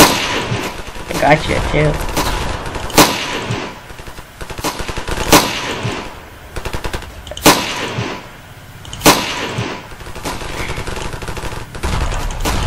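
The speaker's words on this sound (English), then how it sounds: "who's shooting at me?" Repeated gunfire in the Ravenfield video game comes as loud, sharp bursts of shots roughly every second or two over a busy battlefield, with a player talking between the shots.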